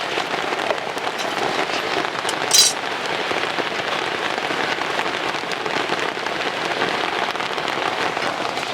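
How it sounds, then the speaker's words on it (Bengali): Heavy outdoor rain falling steadily, a dense even hiss of drops on surfaces with one brief louder splash or clatter partway through, close and unbroken. "ভীষণ বৃষ্টি পড়ছে। বৃষ্টিটা কিছুতেই কমছে না।"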